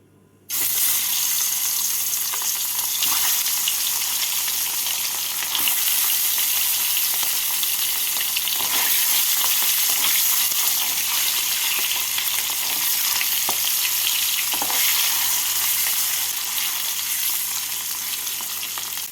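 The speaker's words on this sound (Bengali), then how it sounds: "তেলটাকে ভালো করে গরম করে নিয়ে এর মধ্যে ডিমগুলোকে ভেজে তুলে নেব" Eggs frying in hot mustard oil in a wok, a loud, continuous close-up sizzle that starts abruptly and holds steady throughout, with no voices.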